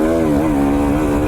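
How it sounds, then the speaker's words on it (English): A two-stroke dirt bike engine on a downhill trail in Idaho runs with a steady, loud, buzzing drone, rising slightly in pitch in a brief throttle blip. "I blip the throttle quite a bit"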